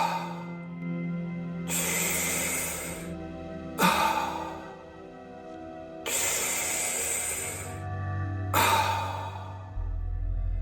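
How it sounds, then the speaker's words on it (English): Slow, deep relaxed belly breathing, with long breathy inhales and exhales alternating in a steady rhythm every couple of seconds, close and clear over a soft sustained musical drone. "First, we'll do some deep, relaxed, conscious breathing."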